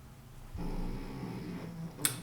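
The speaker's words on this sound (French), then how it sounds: "C'est Oscar qui ronfle. Je ne sais pas si vous l'entendez" A dog snoring indoors, a low rumbling breath that begins partway through and holds steadily for over a second, faint and close, ending with a brief sharp noise.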